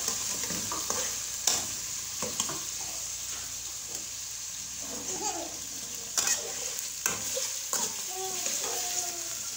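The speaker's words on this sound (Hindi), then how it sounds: "इसको हम 4 से 5 मिनट तक फ्राई करेंगे" Beef frying in a karahi, a steady close sizzle with repeated scraping and clattering stirs of the spoon against the pan, the spoon strokes landing irregularly, with faint talk in the background.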